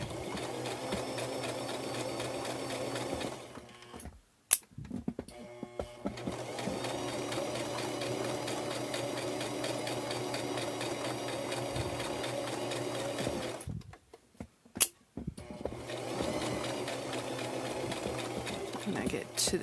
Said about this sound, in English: we're just going to sew all the way down